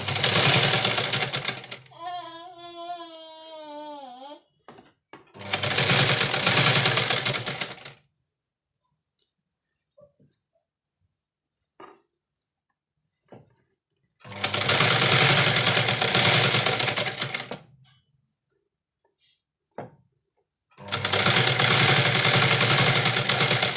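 Sewing machine stitching a blouse back neck in three or four loud bursts of rapid needle clatter, separated by quiet pauses with faint handling sounds and a brief whirring hum between bursts.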